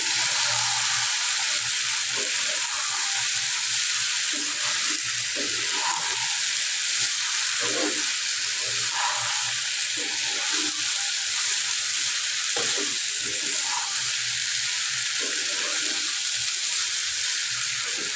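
Rice tipped into a hot pot for Bangladeshi tehari, frying with a steady, loud sizzle and hiss that runs unbroken, with occasional stirring scrapes and bubbling pops.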